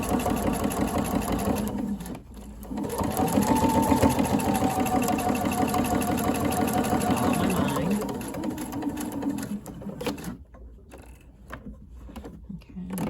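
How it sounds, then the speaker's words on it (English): A sewing machine stitches across all layers of a welt pocket, its steady whirring motor running in sustained bursts with short pauses and a final stop, fairly close and loud. "Okay, and then I'm going to stitch across all layers."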